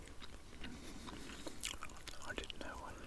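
Chewing gum close to the microphone in a whispered ASMR session, soft wet smacks and crunchy bites in an irregular rhythm, faint and intimate with breathy whispering woven through.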